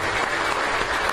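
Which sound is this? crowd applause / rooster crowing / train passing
crowd applause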